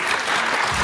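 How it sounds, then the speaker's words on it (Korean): Steady, dense applause from an audience at the G-Investment Forum held at the Geumosan Hotel convention center, filling the short moment evenly with no gaps. "박수 주십시오."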